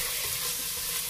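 Vegetables sizzle loudly in a hot pan as the browned bottom is being deglazed, giving a dense, steady frying hiss that stays up close and constant throughout, with no one talking.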